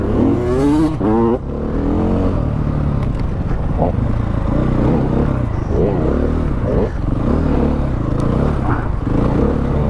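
A 2016 KTM 500 EXC dirt bike engine revs and surges on an off-road ride, rising and falling in pitch close up, while a rider talks over the engine noise.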